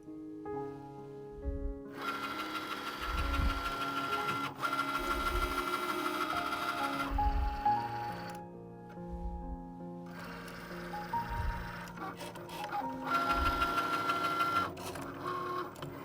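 Cricut cutting machine running through a cut, making a whirring motor hum with rhythmic carriage strokes and short pauses between passes, close and steady throughout.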